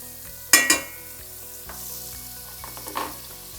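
French toast sizzles in margarine or oil in a pan: a loud spattering burst as the bread goes in, then a steady close frying hiss with a few clinks and stirring sounds, and no talk.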